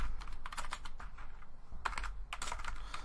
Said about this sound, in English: Sorry if I'm making so many mistakes typing.